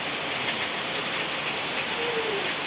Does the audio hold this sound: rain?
yes